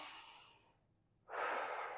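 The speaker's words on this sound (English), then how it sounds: "Take a nice deep breath in." A quiet, close breath is exhaled, then after a short pause a deep inhale draws in sharply and steadily, heard alone against near silence.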